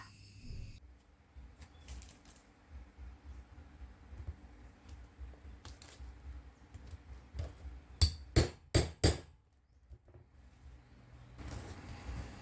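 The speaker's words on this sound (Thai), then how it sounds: "จากนั้นก็ให้นำค้อนมาตอกให้แน่นเลยค่ะ" A hammer pounds a metal rivet setter to fix rivets on a woven plastic bag. Quiet handling noises come first, then four sharp, loud metallic strikes in quick succession near the end.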